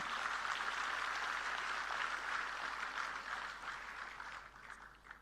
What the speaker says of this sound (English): Give a big applause for our SRM team.